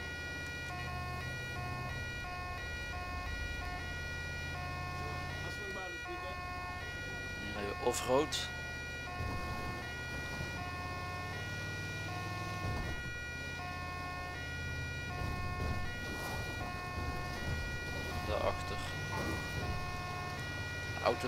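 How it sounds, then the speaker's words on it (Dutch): A custom Dutch ambulance siren from a GTA 5 mod wails steadily in a repeating two-tone pattern over a running vehicle engine, loud and constant, with someone talking briefly over it. "Samen met de sirene die jullie nu gaan horen. Ook persoonlijk voor mij gemaakt"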